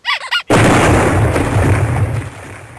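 A main cannon fires in a Red vs Blue episode, a sudden loud boom at about half a second that rolls into a long rumbling explosion tail, preceded by a short burst of speech.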